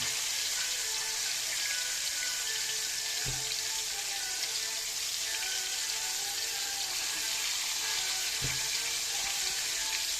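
A steady, loud sizzle of meatballs frying in a pan fills the whole stretch, with two faint dull knocks along the way and no voices.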